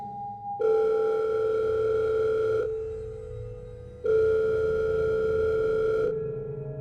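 A telephone rings in two long electronic tone bursts separated by a pause, steady and clear, with faint background noise between rings.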